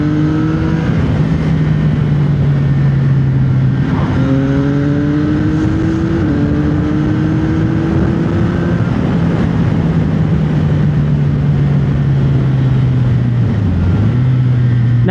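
A CFMOTO 675SR sport motorcycle revs hard and accelerates from fourth gear, its engine pitch rising in steps through gear changes, loud and close with constant wind rush.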